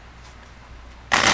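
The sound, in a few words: tarot cards being shuffled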